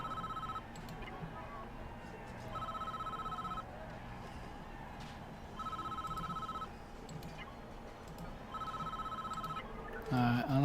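A phone rings in the Prison Architect video game, an electronic bell repeating in evenly spaced bursts with short gaps between them, fairly quiet under faint background game sounds, ending in a louder clatter.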